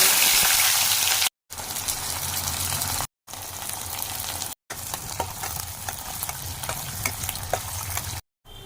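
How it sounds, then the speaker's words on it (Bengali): Onions sizzle and fry in hot mustard oil with whole garam masala in a pan, a steady crackling hiss with a few brief breaks and occasional stirring scrapes. "পেঁয়াজটা একদম লাল লাল করে ভেজে নিতে হবে"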